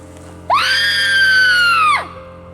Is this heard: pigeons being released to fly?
no